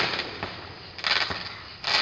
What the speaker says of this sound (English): I'll be quiet so you can enjoy the fireworks during the video while they're being launched